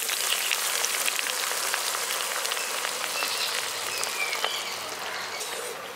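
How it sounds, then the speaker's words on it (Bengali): Water poured into a hot spice paste in oil, for a vegetarian eggplant dish, sets off a dense, crackling sizzle that hisses steadily for six seconds and eases slightly toward the end. "এবার এর মধ্যে আমি অল্প পরিমাণে একটু জল দিয়ে দিচ্ছি।"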